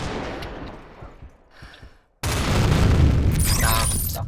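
Gunfire and explosions in the online shooter Combat Arms Reloaded on the Ghost Town map, a few scattered shots that fade out, then a sudden loud blast with sustained booming rumble.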